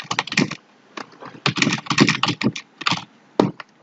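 Rapid typing on a computer keyboard while filling in dental practice management software, bursts of close, crisp key clicks with short pauses between them, no voices.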